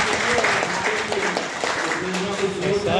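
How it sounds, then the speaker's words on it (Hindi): Students at an inauguration ceremony applaud strongly, a dense and steady clapping that fills the hall for the whole stretch, with some voices mixed in under it. "आप सभी स्टूडेंट उनके लिए एक बार जोरदार तालियां आप लोग बजाएं"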